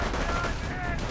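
A machine gun bunker in Company of Heroes fires in a dense battlefield din of continuous gunfire. The rattle is loud and packed tight, with no clear gaps between the bursts.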